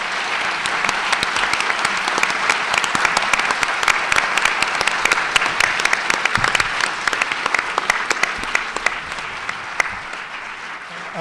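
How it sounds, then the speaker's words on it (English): An audience at a panel discussion on Portland's homelessness problem breaks into sustained applause, a dense, loud patter of many hands clapping that stays full for about eleven seconds before tapering slightly at the end. "Could we please have a round of applause for our just terrific panel?"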